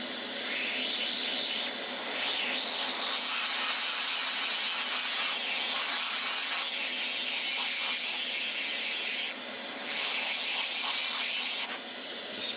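Dremel rotary tool with a diamond wheel grinding a groove into rock, a steady high-pitched whine and hiss with brief louder bursts as the wheel bites, fairly close and alone.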